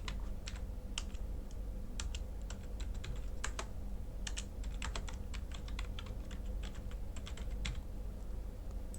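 Steady typing on a computer keyboard, quick irregular key clicks running through the whole stretch at close range over a low background hum, with no voices.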